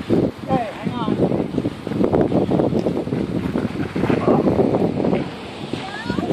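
Strong outdoor wind buffets the microphone in gusts on a mountain road trip near Pike's Peak, Colorado, with people talking over it.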